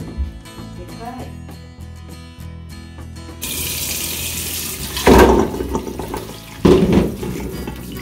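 Freshly picked ume plums are rinsed in water at a sink, with tap water running and splashing loudly close by, plus two louder sloshing bursts as the fruit is stirred.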